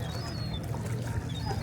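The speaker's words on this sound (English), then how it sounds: "You should be able to hear the water as well." Water flowing outdoors in a light breeze, picked up by the DJI Osmo Pocket 3's internal mic: a steady, moderate rushing and trickling wash with no break.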